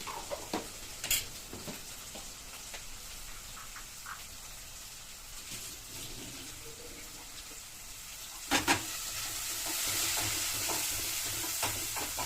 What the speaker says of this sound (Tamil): குழம்பு தாளிச்சுக்கிறேன்